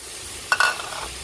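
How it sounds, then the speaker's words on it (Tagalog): Ground meat sautéing in a pan: a quick scrape of stirring breaks over a soft, continuous sizzle, then the frying settles back to a low, close hiss. "Antayin natin mag-isa yung ating giniling. Nagisa na yung ating giniling."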